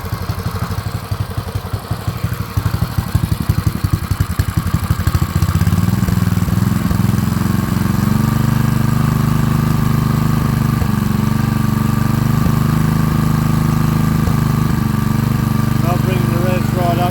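A once-seized small Honda engine, revived, runs steadily at low revs after a rough, sputtering start, settling into a loud, continuous near idle with some clatter.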